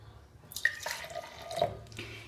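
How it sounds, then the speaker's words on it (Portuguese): Water is poured into a container for a kitchen-table mixing demonstration, a few quiet splashing trickles and drips in separate bursts, close and soft with no voices. "De novo, vou pegar um pouco de água"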